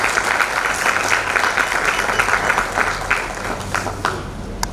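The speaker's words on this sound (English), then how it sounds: "please give a very big round of applause" A crowd at a design workshop and hackathon breaks into steady, full applause that holds evenly and then tapers slightly with a few last claps.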